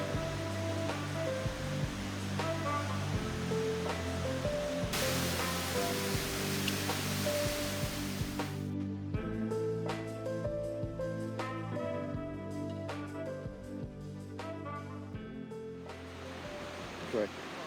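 Rushing water from the Cascade de la Roucole waterfall in the Cantal pours as a broad, constant roar, mixed with music and occasional background sound that sits over it for much of the stretch.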